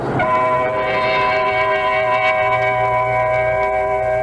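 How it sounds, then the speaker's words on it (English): An express subway train roars through a station without stopping, producing a loud, sustained rumble and ringing metallic screech with echo, holding steady throughout. "Just another subway station passed an express train that didn't stop there."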